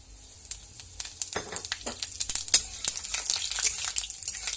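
Bay leaf, two dried red chillies, five-spice and whole cumin crackling in hot oil, with a burst of loud, dense popping and spitting that builds and continues close by, alone with no voices.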